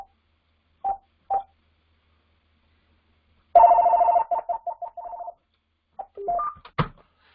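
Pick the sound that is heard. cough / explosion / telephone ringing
telephone ringing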